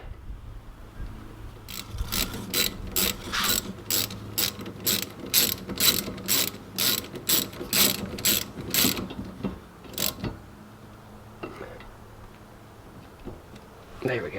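A ratchet clicks in a rapid, steady run of about a dozen strokes while tightening a brake caliper banjo bolt on a car with seized brakes. It is close and loud, then stops, leaving a few faint clicks.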